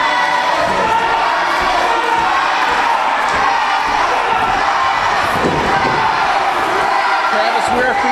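A wrestling event crowd roars and cheers continuously, a dense wall of shouting voices with occasional louder surges, loud and close.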